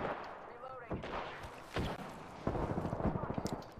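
Shotgun blasts in the video game Apex Legends, several booming shots spread across a few seconds, amid game noise and a player's voice talking.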